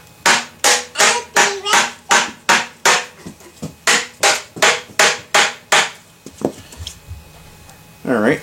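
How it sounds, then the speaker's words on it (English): Steel hammer striking and seating assembled parts, about fifteen loud, sharp whacks in a steady rhythm, then a few lighter taps and clatter near the end. "A few more whacks"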